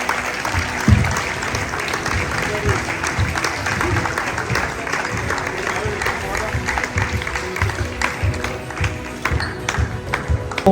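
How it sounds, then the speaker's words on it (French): Audience applause fills a gym at a club basketball all-star game as skills-contest winners are announced, sustained close clapping for the whole stretch with voices mixed in. "Applaudis."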